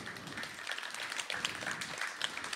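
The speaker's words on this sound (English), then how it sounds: "big round of applause" Small audience clapping at a live-stream studio performance at A440 Studios, a dense, quiet patter of hand claps with scattered sharper hits, continuous and without talk.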